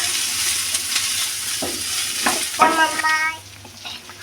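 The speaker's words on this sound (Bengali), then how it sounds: "আর দিয়ে দেবো কটা ধনেপাতা, দিয়ে ভালো করে ভেজে নেব।" Onions and coriander leaves fry in a hot pan with vigorous stirring. A loud sizzle runs underneath repeated scraping strokes of the spoon, and the sound eases toward the end.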